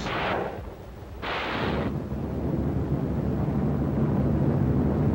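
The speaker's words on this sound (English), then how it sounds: "firing their massed salvos with close precision until the troops were 300 yards from the beaches" Naval guns fire massed salvos in a D-Day Normandy invasion newsreel, two loud booming blasts followed by a sustained rumbling roar, with no voices.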